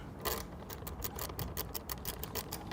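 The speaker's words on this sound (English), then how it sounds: "12 millimeter ratchet wrench." A 12 mm ratchet wrench tightens a foot peg bolt on a Triumph Bonneville motorcycle, giving a rapid run of close, crisp ratcheting clicks in quick bursts with no talking.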